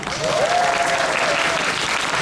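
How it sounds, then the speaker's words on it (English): Crowd applause at a fursuit exhibition convention panel, strong steady clapping from a large audience with a brief cheer or voice riding over it. "Can we get a round of applause?"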